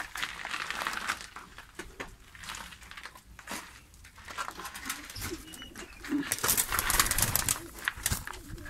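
Diyarbakir white pigeons coo in soft, uneven bursts, with rustling and fluttering around them that grows busier and louder toward the end.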